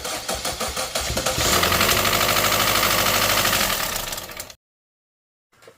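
A Chevy Trax engine cranks in a rhythmic chug, catches and revs up into a loud steady roar, then cuts off abruptly into silence.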